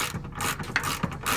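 A hand ratchet clicking as it loosens a bolt on the rear lower control arm of an Acura RSX Type S, a short run of close mechanical pawl clicks with music faintly underneath.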